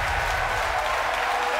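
A large crowd cheers and applauds continuously at a rocket launch right after booster separation, a dense steady roar with no pauses.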